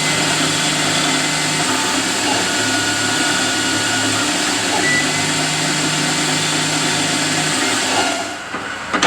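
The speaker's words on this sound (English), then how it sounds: "I'll run the coolant for the drill, and I'll run the coolant for the" A lathe parting tool cuts with coolant running: a steady, loud machining roar with a continuous whine and hiss of running liquid, unbroken for several seconds before winding down.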